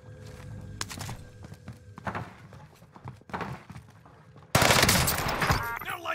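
Rapid submachine gun fire in Warzone, with sharp close bursts and scattered shots, ending in a loud sustained barrage, with brief game voice chatter.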